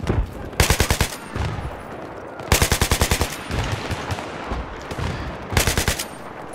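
Battlefield 3 automatic gunfire in three loud, rapid bursts separated by pauses, each a fast rattling string of shots over a steady background rumble of battle.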